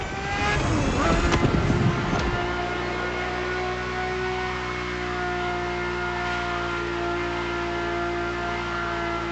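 Ferrari supercar engine in The Crew Motorfest holds a steady, loud droning note, with a rougher burst of revving in the first two seconds before settling into a sustained hum.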